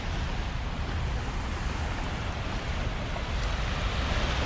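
Ocean surf rolling onto a sandy beach on a cool, bright morning, a steady broadband wash of breaking waves mixed with wind rumble on the microphone, continuous and fairly loud throughout with no voices.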